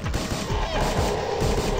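Sustained gunfire in the X-Com: Apocalypse video game, a dense, continuous barrage of overlapping shots and bursts at steady loudness with no pauses.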